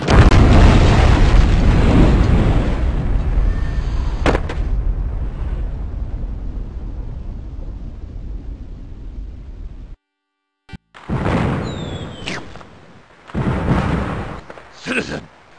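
Crates of firecrackers go off in a video game as a long, loud rumbling blast that decays over several seconds, then cuts to silence before game sound effects and voices resume.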